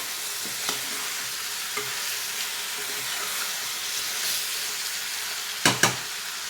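Tomatoes, onions and green chilies fry in a pan for Andhra-style gongura mutton, a soft continuous sizzle with light stirring taps, ending in two sharp utensil knocks near the close.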